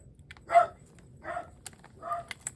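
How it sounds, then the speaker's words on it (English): Puppy giving three short, soft barks spaced about a second apart, fairly faint and indoors over a low background hum. "puppy thinks she hears something"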